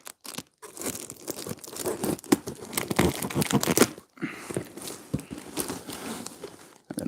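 A knife cuts open a bag of landscaping material, giving close crunchy tearing and crinkling plastic sounds in uneven strokes, broken by short pauses.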